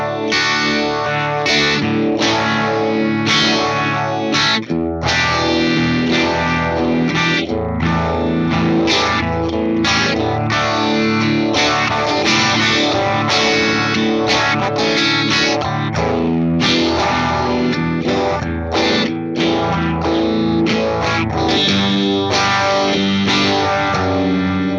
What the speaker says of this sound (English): Let's listen to the Little Rock Phaser with no other effects.